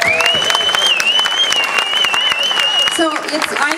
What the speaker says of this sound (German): Ein großes Applaus